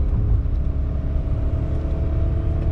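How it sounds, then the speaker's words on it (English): A 2020 Hyundai Venue iMT pulling away under throttle in first gear, a steady low engine drone and rumble from inside the cabin, loud and unbroken for a few seconds. "I am shifting it to 1st gear and throttle"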